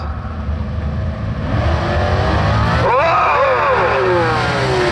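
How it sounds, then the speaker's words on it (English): Two nostalgia drag racing cars running 9-second passes launch at a Townsville dragway, engines roaring loudly and rising in pitch as they pull away, with a brief excited shout. "here we go, a couple of 9-second cars"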